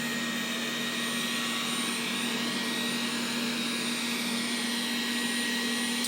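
A Dreame D9 lidar robot vacuum runs with carpet boost suction: a steady, loud, continuous motor whine with a high hiss that holds unchanged throughout, with no talk.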